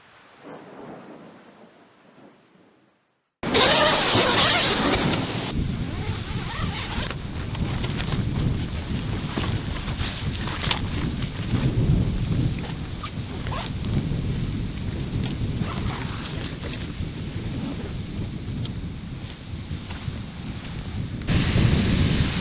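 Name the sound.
storm with wind and rain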